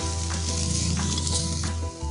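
Coriander powder, turmeric and salt stirred into hot oil in a pan for chole, a steady close sizzle with a few spoon scrapes, no talk.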